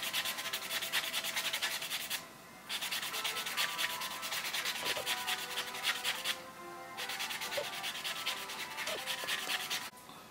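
A nail buffer rubbing across fingernails during an SNS dip-powder manicure, after sanding. It makes steady, close, rasping strokes in three long stretches separated by brief pauses, with no talking.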